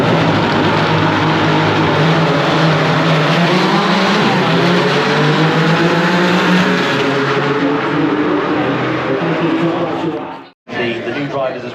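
BTCC touring cars roar off the grid at the Donington Park National Circuit for a 20-minute race, a dense, loud wall of engine noise with rising revs under steady commentary, then a brief dropout and return.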